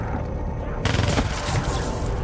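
Rapid automatic gunfire in the video game Black Ops 3, a dense, loud burst of shots sustained through the whole moment with no talk over it.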